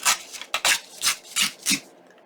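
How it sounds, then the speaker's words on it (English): Paper is torn by hand for a junk journal tab in about six short, crisp ripping bursts, close and fairly loud, with brief pauses between them. "I'm going to give it a nice little tear."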